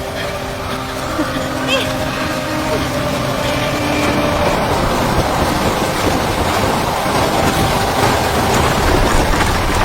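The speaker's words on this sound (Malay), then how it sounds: "Angin kuat sangat." Strong storm wind roaring steadily in an animated cartoon scene, a continuous loud broadband rush with gusty texture and a whooshing, wave-like surge throughout, with voices in the background.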